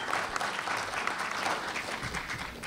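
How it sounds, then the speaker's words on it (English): A crowd applauding steadily at a Martin Luther King Jr. celebration in Davis, a dense wash of clapping that holds at an even level throughout with no voices standing out. "just saying that name should elicit applause in this place"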